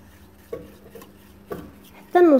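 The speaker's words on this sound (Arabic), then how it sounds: "ونبدا نخلط" Milk is stirred little by little into a flour batter for chicken breast gratin, with soft spoon scrapes and a couple of knocks against the pot. A brief voice cuts in at the end.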